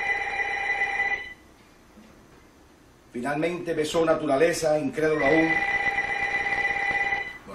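A telephone bell rings steadily for about a second, stops, then resumes after a stretch of speech and rings on to the end; someone talks loudly between the rings.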